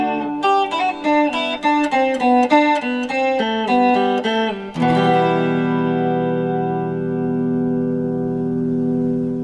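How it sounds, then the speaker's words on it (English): A bright, shimmering 12-string guitar played with a pick picks quick notes, then rings out on a sustained chord that slowly fades, played alone and close. "We can play it exactly the same way on the 12-string guitar with the pick"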